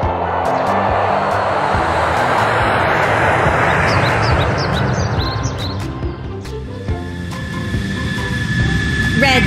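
A cartoon airplane's engines roar as it starts up at an airport, a loud broadband rushing drone that swells and then eases, with small clinks and tones over it.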